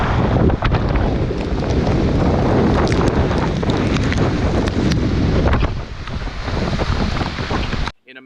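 Strong storm wind roars constantly across the microphone while waves slosh and splash against a dock, loud and unbroken before cutting off abruptly.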